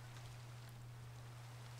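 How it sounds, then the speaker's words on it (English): Steady rain falls in Minecraft, a soft continuous hiss of drops with a constant low hum beneath, alone with no voices. "It's wet and rainy."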